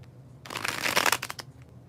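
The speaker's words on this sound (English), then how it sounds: "When I do the bridge shuffle, as I'm about to do" A tarot card deck bridge-shuffled once, a quick riffle of cards buzzing together for about a second, close and crisp, followed by a softer settling shuffle.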